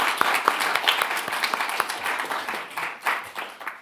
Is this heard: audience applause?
yes